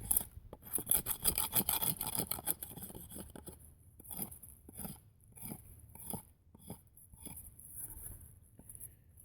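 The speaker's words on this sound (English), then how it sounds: "You can also scrape your wood like with any other knife" Tops Tracker knife blade scraping along a wooden stick, giving close, repeated raspy strokes in an uneven rhythm, dense at first and then spaced out, with no talk.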